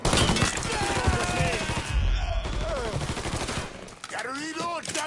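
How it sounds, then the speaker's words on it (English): Dense gunfire from the Mafia III Definitive Edition video game crackles in rapid overlapping bursts, loud and close, with shouted voices breaking through near the end. "You're getting shot at, Boozer."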